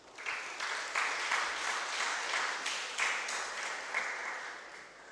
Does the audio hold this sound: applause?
yes